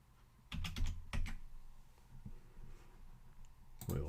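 A technician's password is typed on a keyboard in a quiet room: a few quick bursts of crisp key clicks, grouped near the start and again at the end, with soft pauses between.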